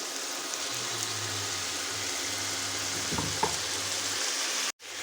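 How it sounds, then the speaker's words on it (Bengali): Potatoes and onions fry in mustard oil in a wok, giving a steady, close sizzle with a faint scrape of stirring. The sound cuts out briefly near the end. "কড়াইয়ে পরিমাণ মতন সর্ষে তেল দিয়ে আমি আলুগুলো ছেড়ে নিচ্ছি আলুগুলো একবারে পুরোপুরি ভাজা করে দেবো না"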